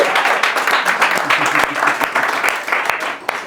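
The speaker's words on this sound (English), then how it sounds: "Can we have a round of applause for her?" A crowd at a live event in London breaks into a round of applause, a thick wash of many hands clapping close and loud, with a faint murmur of voices beneath it.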